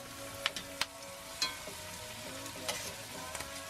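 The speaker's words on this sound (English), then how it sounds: "Jackson is sauteing the onions, looking good on the cast iron." Onions sautéing in a cast iron pan on a small camp stove, a steady sizzle broken by several sharp scraping and stirring clicks.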